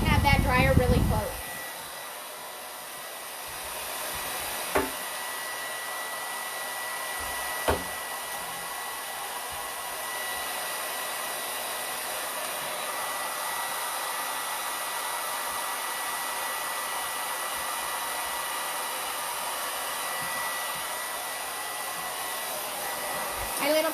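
A hair dryer blows steadily while a dog is dried, held well back from the animal. After a brief louder burst at the start, it settles into a constant, even hiss and whoosh, with a couple of faint knocks along the way.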